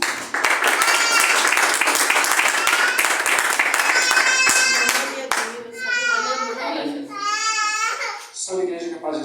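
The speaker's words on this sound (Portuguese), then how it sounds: "Receba o servo de Deus com palmas para o Senhor Jesus" A church congregation claps and applauds for a preacher, dense and sustained for about five seconds, then fades as a voice and babbling take over.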